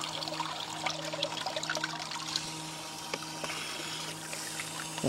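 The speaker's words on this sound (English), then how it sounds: "That is a good flow of water as well." Water pours from a Camplux Nano portable water heater shower outdoors in a steady, full hiss with a faint low hum underneath, continuous throughout.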